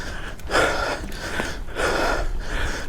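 A mountain biker breathes heavily on a ride, with about three loud, rhythmic breaths, each a rasping inhale and exhale, close to the microphone and with no talking.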